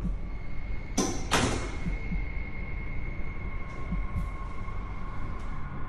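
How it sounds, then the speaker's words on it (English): An open outside door at the top of a building's stairs clanks twice in quick succession, sharp metallic knocks over a steady background hum, followed by fainter knocks. "as he looks up to find an outside door open, it clanks loudly"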